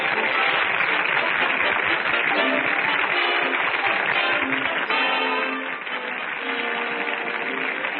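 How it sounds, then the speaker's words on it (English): Theatre audience applauding, a continuous dense wash of many hands clapping that holds steady and loud for several seconds, dipping slightly near the end. "Listen to that applause"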